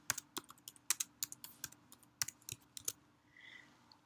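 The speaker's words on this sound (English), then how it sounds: "and begin to type." Keystrokes on a computer keyboard, typed in quick irregular bursts of sharp clicks with brief pauses. The typing sounds close and dry, with no talk over it, and it trails off near the end.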